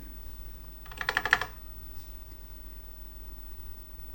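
Several quick key presses on a TRS-80 computer keyboard, a short cluster of clicks within about half a second over a steady low electrical hum, with no speech.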